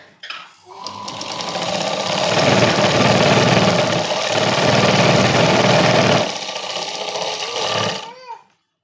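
Close, loud whirring of a sewing machine running continuously for several seconds while stitching a princess cut blouse, starting and stopping abruptly.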